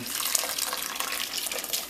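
Hot water streams into a bowl of fresh lime juice, used lime skins and grated ginger for a Caribbean ginger beer, a steady close-up splashing pour running unbroken, with no voice over it.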